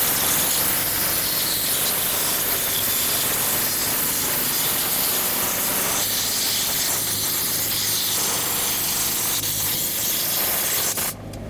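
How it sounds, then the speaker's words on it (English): A compressed air blowgun blasts debris off the fuel tank of a 2007-2014 Chevrolet Silverado 2500 HD, a loud, continuous hiss that rushes on steadily for nearly the whole clip before cutting off at the end. "I'm gonna take my compressed air blowgun and get all this"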